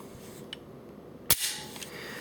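The slide of a semi-automatic handgun is released and catches in its notch, making one sharp, close metallic snap that is followed by a brief faint rattle in an otherwise quiet room.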